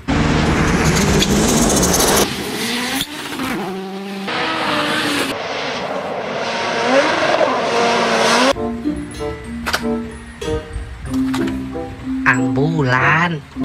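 A race car revs and accelerates hard with squealing tires, loud and close, followed by scattered tonal effects and voices.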